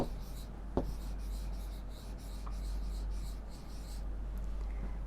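A pen scratches steadily across paper while an answer word is written out, a continuous soft rasp with a sharp tap near the start, close and quiet over faint room hiss.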